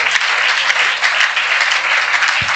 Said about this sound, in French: Acclame très fort pour la gloire du Seigneur.